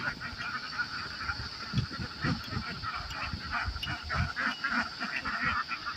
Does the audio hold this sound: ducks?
yes